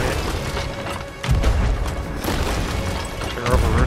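Cannon fire in Sea of Thieves during a ship-to-ship battle: a few deep booms with heavy thuds, among rushing waves and game noise, loud and close, while a player talks.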